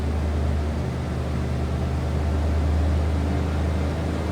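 A 1992 Ford F-150 XLT extended cab with a 5.8 liter V8 idles steadily, its exhaust giving a low, even rumble that stays constant and close with no revving.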